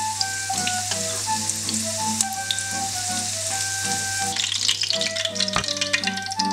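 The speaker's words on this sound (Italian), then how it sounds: "facciamo cuocere, li rigiriamo, vedete il sesamo diviene un pochino scuro ma non deve bruciare" Sesame-crusted chicken pieces fry steadily in a pan, a dense close sizzle with crackling pops that intensify toward the end, with no voices.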